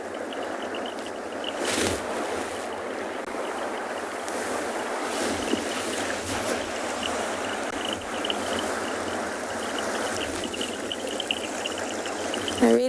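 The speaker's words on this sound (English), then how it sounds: "I really hope that you can hear the running water" Steady broadband rush of running water at a penguin beach enclosure, continuous and fairly loud throughout with no one speaking, a few brief brighter splashes standing out.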